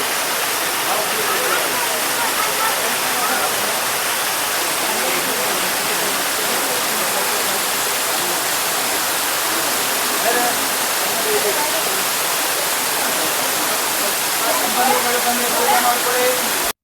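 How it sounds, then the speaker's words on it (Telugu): Akasaganga waterfall beside a temple near Tirumala roars as a steady, loud wash of falling water throughout, with faint voices in the background. "టెంపుల్ పక్కనే ఆకాశగంగా వాటర్ ఫాల్స్ అయితే ఉంటాయి"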